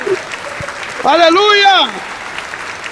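A church congregation claps steadily through a service while a voice shouts loudly over the applause partway through.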